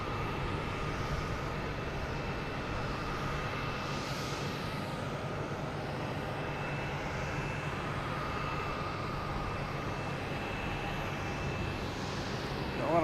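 A Southwest Boeing 737 comes in to land at Boston Logan, heard as a steady, even jet roar from some distance that holds at a constant level throughout, with faint whining tones layered on top.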